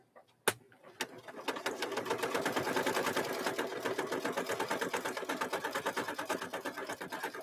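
After a couple of sharp knocks, a sewing machine stitches at a steady fast rhythm, close and fairly quiet, its rapid needle clatter running on without pause.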